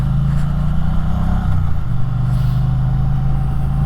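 Twin-cylinder engine of a 2020 Triumph Bonneville T100 Bud Ekins (A2 licence version), with peashooter-style exhaust, droning steadily and loud close by while riding and overtaking, pitch dipping briefly then rising again.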